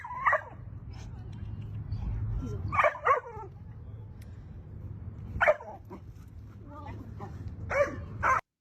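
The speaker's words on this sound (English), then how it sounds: "You hear how the barks are faster, a bit higher pitched, right?" A young puppy named Diesel barks in quick, high-pitched bursts while on a leash, the yips coming in clusters with gaps between them, mixed with a voice giving commands.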